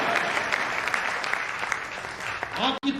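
An audience at a Hindi comic poetry gathering in Ayodhya claps in a dense, lively burst, with a voice briefly rising near the end.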